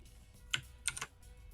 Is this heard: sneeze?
no